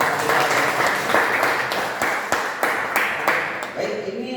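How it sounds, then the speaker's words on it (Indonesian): Audience applause in a school teacher training session, dense steady clapping from many hands that fades slightly toward the end, with some voices mixed in underneath. "Kita beri aplaus sama-sama untuk Pak Rival."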